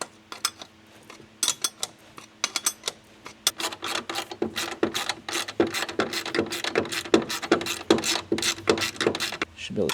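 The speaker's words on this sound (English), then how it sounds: "You got to use a wrench for this one." A hand wrench turning a bolt on a 6x6 MTVR military truck, a close series of rapid metallic ratcheting clicks in quick bursts that grow steadier and denser.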